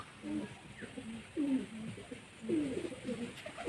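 A male pigeon coos in close, rounded, rising-and-falling calls, three main bursts spaced about a second apart against a quiet background with faint rustling.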